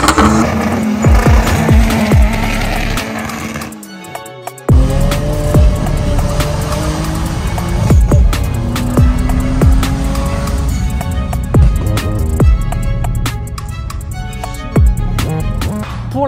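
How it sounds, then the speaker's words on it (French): A BMW with an N54 engine takes a run at the King of Essence 2023 car event, its engine loud and close, revving hard through gear changes with bursts of tire squeal and no talking. "On va faire un petit tour ensemble, voir comment ça se débrouille sur le run."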